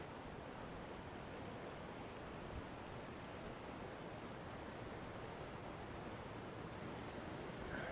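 Steady wind blowing across the St Peters Basin harbour on the River Tyne, a constant broadband rush that stays fairly loud and unbroken throughout, with no voices.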